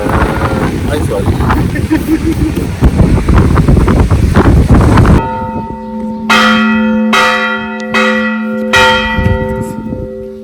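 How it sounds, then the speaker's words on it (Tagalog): Church bell in Greece ringing loudly, several ringing strokes with long sustained tones, following a stretch of wind and surf noise with voices talking. "Binidyo namin kasi ang lakas nung kalembang ng kampana eh."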